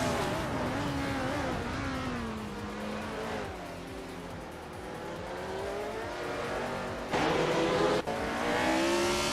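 Race cars, including a McLaren M19A, run a video game race with engines droning and shifting pitch as they rev steadily. The sound grows louder and busier near the end.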